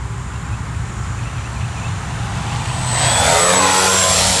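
A Fi156 Storch balsa RC model airplane with 1600 mm wingspan flies with slats and flaps deployed, its engine drone steady and then swelling louder and brighter as power comes in for a climb, with no talk over it.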